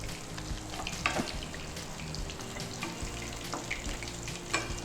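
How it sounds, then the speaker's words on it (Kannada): Rice fries in a pan for fried rice with a continuous soft sizzle, broken by quiet scraping and clinking stir strokes from a spoon. "ಫ್ರೈ ಆಗಿದೆ, ತೆಗೆಯುವುದಾ?"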